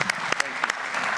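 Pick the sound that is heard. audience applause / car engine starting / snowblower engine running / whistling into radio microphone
audience applause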